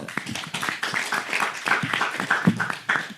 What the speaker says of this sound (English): give applause for both